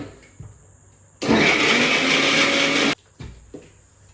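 An electric mixer grinder runs for about two seconds, loud and whirring, grinding chicken and cabbage momo filling, with faint knocks before and after.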